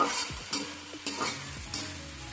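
Spices being stirred into banana stem frying in a pan, with three or four distinct scraping strokes of a spoon over a soft, quiet sizzle.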